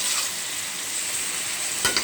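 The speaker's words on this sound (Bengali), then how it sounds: "কিছুক্ষণ নেড়ে চেড়ে নেব, যাতে মশলাগুলো ভালোভাবে ভিতরে ঢুকে" Soft, steady sizzling of spices and mixed fish in a frying pan, with a couple of brief scraping stirs near the end.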